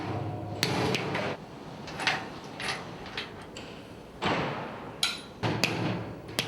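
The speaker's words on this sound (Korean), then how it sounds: "볼트가 잘 들어가지 않을 때는 망치를 사용하는 수밖에 없다." Hammer blows ring out on steel bolts being driven into a steel frame structure at a construction site, with several sharp, separated impacts spaced irregularly over a steady background hum.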